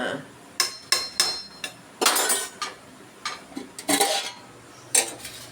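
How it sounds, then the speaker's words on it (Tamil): A pressure cooker lid is closed over lentils cooking for sambar, with a series of sharp metallic clanks and knocks, some single and some in quick clusters, close by and fairly loud. "குக்கரை மூடி"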